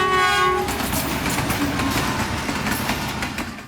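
A train passes through a railway station with a loud, steady rolling rumble and rhythmic wheel clatter. A horn sounds near the start.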